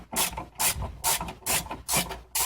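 A ratchet on an extension turns 8 mm intake bolts on a 1996 Honda Accord, five or six rhythmic rasping clicking strokes in steady succession, close and fairly loud with no talk.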